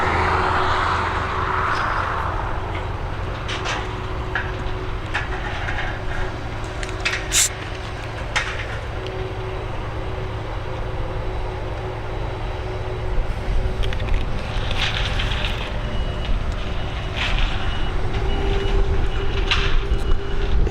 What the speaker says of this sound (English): we have this United Boeing 767. She's going to be heading over to Washington.